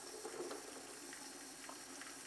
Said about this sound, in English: I'm going to do a light rinse